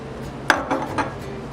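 Bread and butter plates are set down on a dining table, giving a sharp ceramic clink followed by two softer knocks, close and clear in a quiet room.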